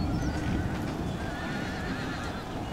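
In an Empire: Total War battle, cavalry horses neigh and whinny loudly over a dense rumble of hoofbeats and battlefield noise, with no speech.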